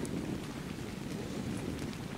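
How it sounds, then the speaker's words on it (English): Rain and thunder in the survival video game Ark: Survival Evolved, a steady, even hiss of rainfall layered over a low continuous rumble, holding constant without breaks. "Very hard to see in the rain."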